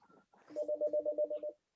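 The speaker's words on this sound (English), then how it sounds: "Sorry about the phone." A telephone rings once in a quiet room, a short warbling electronic trill of rapid repeated pulses lasting about a second, loud and close.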